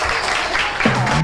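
A short burst of audience applause at a lively hosted fun event, fairly loud and continuous with a voice breaking in near the end.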